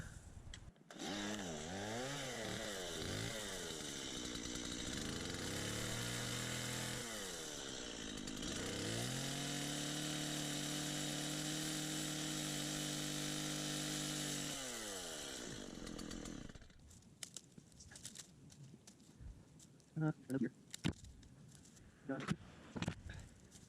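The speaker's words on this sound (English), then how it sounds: "I'm gonna get the chainsaw and I'm gonna cut this out" A chainsaw revs and bogs while cutting a dead branch out of a Knockout rose bush, loud and close for about fifteen seconds, then cuts off, leaving scattered handling and footstep noises.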